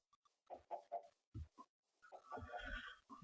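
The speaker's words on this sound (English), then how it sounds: "Just killing some more chickens here." Chickens cluck in the Minecraft video game, short choppy bursts of clucking followed by a longer squawk, faint and close with no talking.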